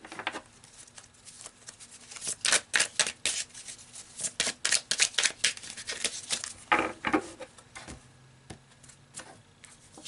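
Tarot cards being shuffled and pulled, giving a run of crisp, close riffling flutters and papery slaps in bursts, with some soft taps and pauses between and no talking.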